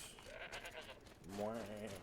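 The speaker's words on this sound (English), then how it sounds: "Goats." Goat in the video game Horizon Zero Dawn giving a single wavering bleat near the end, after a stretch of quieter game ambience, fairly close and moderately loud.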